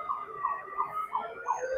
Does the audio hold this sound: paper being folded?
no